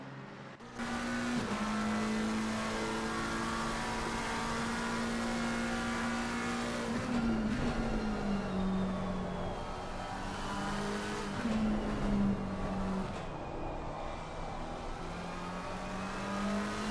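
McLaren and Ford race cars roar down the back straight at Suzuka in a racing video game, engines droning loudly and steadily with shifting pitch as they run close together, no talk.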